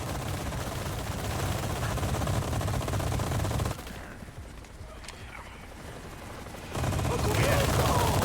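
Rapid machine-gun fire bursts from a Resident Evil 4 game battle, dense and loud for the first few seconds, dropping back under quieter ambience before heavy gunfire resumes near the end.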